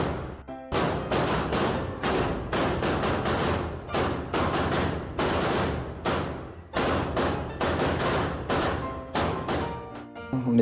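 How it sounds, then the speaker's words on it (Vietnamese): Firecrackers and fireworks set off by a girl on Lunar New Year's Eve in Vietnam, a dense rapid series of loud bangs and crackling bursts running almost continuously with brief gaps, close and harsh. "cô gái đốt pháo hoa để đón Tết"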